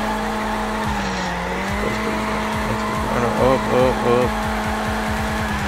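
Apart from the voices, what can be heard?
car skidding on oily road after handbrake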